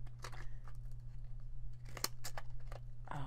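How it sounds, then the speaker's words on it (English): Dull scissors struggle through cardstock in a series of short, crisp snipping and crunching cuts, close and fairly faint over a steady low hum. "It just really doesn't want to cut this cardstock."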